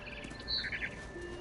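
A bird in the video game What Remains of Edith Finch gives a few faint, high chirps over a soft, steady ambient wash of outdoor background noise.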